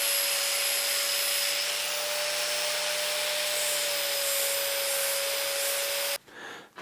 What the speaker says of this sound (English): grind a very slight leading edge all the way around onto the leaf springs or the torsion leaves